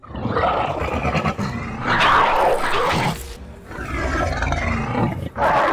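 Several loud, rasping Atrociraptor dinosaur roars and growls from Jurassic World Evolution in close succession, harsh and guttural with short pauses between them.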